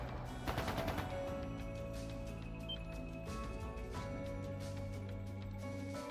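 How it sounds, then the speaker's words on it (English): Gunfire in the video game The Legend of Heroes: Trails of Cold Steel 2, with a short rapid burst of shots early on over sustained game music. "That sounded like gunfire."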